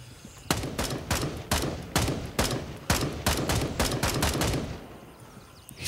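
Non-player soldiers in Gray Zone Warfare fire bursts of rifle shots in an evenly spaced series, about a dozen loud cracks with echoing tails, before the shooting stops.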